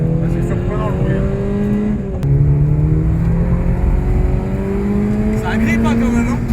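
A Peugeot 106 engine swap on a race circuit revs loudly and close, its pitch climbing through gears with a brief shift dip, while occupants chat over the steady engine drone.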